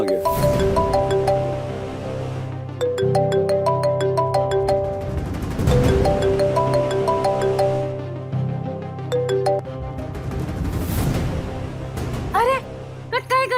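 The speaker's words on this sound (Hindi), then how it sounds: "फोन फोन आ गया।" A phone ringtone plays a repeating melodic pattern of tones, loud and sustained across the whole stretch, with dramatic music and swooshing effects layered underneath.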